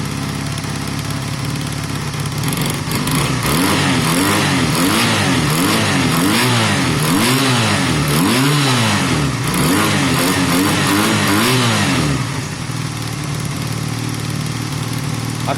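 Honda CB250 motorcycle engine with altered jetting, warming up and being revved in repeated rising and falling surges, loud and close, before settling back to a steady idle.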